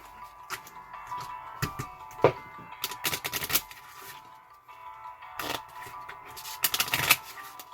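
A deck of game cards for Lost Empires: Crown of Ashes is shuffled in several quick riffling bursts, close and crisp, with quiet pauses and small taps between them.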